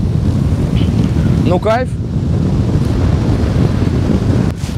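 Strong wind on a hilltop buffets the microphone with a constant low roar, loud and close, while someone briefly speaks midway.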